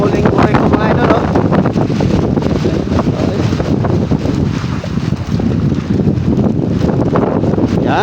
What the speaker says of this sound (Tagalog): Malakas na naman ang panahon mga idol. Tapos malakas ang hangin.